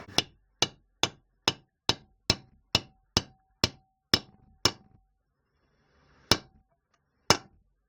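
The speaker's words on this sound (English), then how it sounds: "you hammer on the top of this socket, and it forces the seal down evenly into the hole" A hammer strikes a socket to seat a transaxle seal: eleven sharp metallic blows in a steady rhythm, a pause, then two more spaced strikes, close and loud with nothing else heard.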